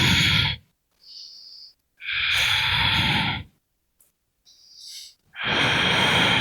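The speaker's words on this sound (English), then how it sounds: "Breathing in and out." Deep, audible breaths during a total-body yoga flow, several long inhales and exhales in slow rhythm, close and fairly loud, with short pauses between them.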